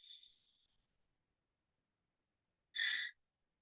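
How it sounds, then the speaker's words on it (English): A single breathy exhale during a breathing exercise, soft and close, followed by a pause of silence and then a brief sharper breath near the end. "Long exhale."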